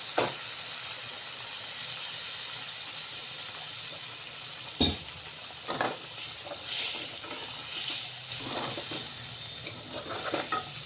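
Water poured into sizzling masala paneer gravy in a pan, giving a steady steamy hiss throughout with a few sharper crackles and stirring knocks, close and alone without speech.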